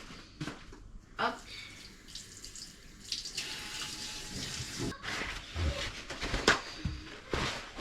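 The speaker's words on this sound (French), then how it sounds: "vous venez les rincer un peu à l'eau claire" Tap water running over peeled rhubarb in a kitchen sink, a soft, fairly quiet rinsing splash with small clatters and shifting flow, no talking over it.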